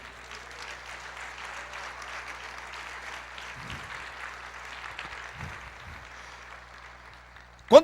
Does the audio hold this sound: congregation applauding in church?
yes